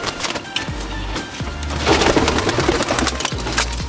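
Pigeons, including checkered birds, coo softly and repeatedly at close range, their low murmuring calls mixed with light rustling and scattered knocks.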